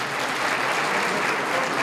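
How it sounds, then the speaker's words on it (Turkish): An audience at a municipal ceremony breaks into steady, dense applause, many hands clapping together at an even level with no voices on top. "Sizlerin alkışlarıyla kalıyoruz."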